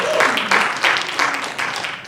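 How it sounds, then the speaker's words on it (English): Applause from a conference audience for the people on stage, moderately loud and close, arriving in uneven bursts about every half second over a short stretch. "I think you should all give yourself a round of applause"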